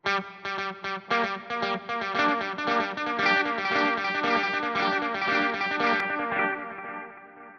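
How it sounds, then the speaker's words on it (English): A guitar through an Axe-Fx III plays a rhythmic, distorted figure as delayed repeats pile up into a dense, layered wash that keeps building, then fades out at the end. "Now you can just keep stacking repeats on."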